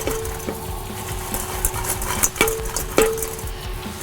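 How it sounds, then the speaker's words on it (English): Honey BBQ seasoning shaken from a shaker onto chicken wings that are tossed in a bowl, giving scattered light clinks and soft rattling knocks, a few sharper taps standing out, close and without talk. "we're just going to give that a shake onto these and toss them as we go"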